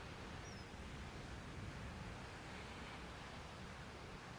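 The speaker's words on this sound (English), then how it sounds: "Get to listen to all the waves." Ocean waves wash at Martins Bay at sunrise, a soft, continuous distant surf hiss that stays even and faint throughout, with no voices.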